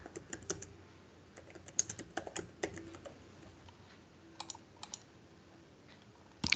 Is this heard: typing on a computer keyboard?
yes